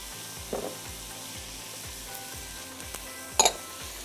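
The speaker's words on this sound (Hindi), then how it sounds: "और आप इसको हाई हीट पे स्टर फ्राई करते रहिएगा" Capsicum and carrot stir-fried over high heat crackle with a soft continuous sizzle, punctuated by a few sharp clinks and scrapes of a utensil against the pan.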